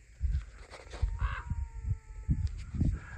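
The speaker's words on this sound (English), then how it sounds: "I got a raven yelling and a cat yelling." A raven calls loudly outdoors, a series of harsh, rough caws repeating in an uneven rhythm close by, with faint background noise.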